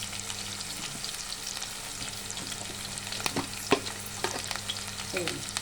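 Thinly sliced onion and curry leaves fry in a pan with a steady hiss of sizzling oil, broken by a few scraping stirs of a spatula, close and alone without any talk.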